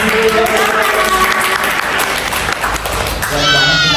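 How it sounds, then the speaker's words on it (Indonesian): Applause and clapping from a small group, likely young students, closing a school OSIS podcast episode, steady and fairly loud for about four seconds with some voices mixed in. "tepuk tangan dulu"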